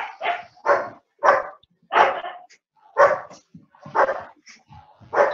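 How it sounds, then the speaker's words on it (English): Dogs bark repeatedly in loud, close, regular bursts about twice a second, some yips mixed in, with no other sound between barks. "Yeah, the dogs here."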